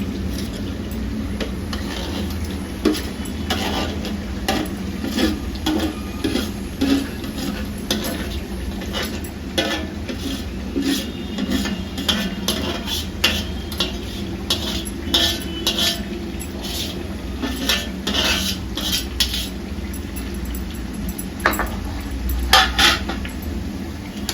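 Green and red chillies frying and stirred in a pan for Schezwan chutney, with steady utensil scraping and clinks against the pan over a soft low sizzle, close and continuous throughout.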